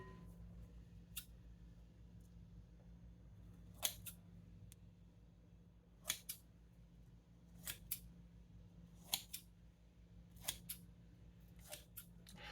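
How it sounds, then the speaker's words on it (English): Kitchen scissors snip across the top of an everything-bagel-topped no-knead artisan bread dough to score it. Roughly ten faint, crisp cuts come at irregular intervals over a quiet background. "by cutting it with some scissors"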